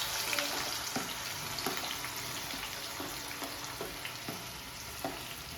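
Chopped onion frying in a pan, a faint steady sizzle with soft regular stirring taps, close and without talk.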